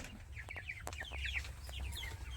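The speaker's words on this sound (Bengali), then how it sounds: "এই দেখুন আমার মুরগি বাচ্চাগুলো, এই দেখো এদের 1 মাস বয়স হয়ে গেছে।" Month-old chickens on a small farm cluck and peep in quick, bright bursts, moderately close over a low background hum, with a few sharp knocks mixed in.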